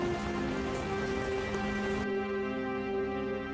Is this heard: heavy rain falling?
yes